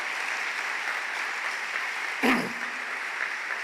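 A church congregation applauds in a steady, moderate wash of clapping, briefly interrupted midway by a short thump, with no voices over it.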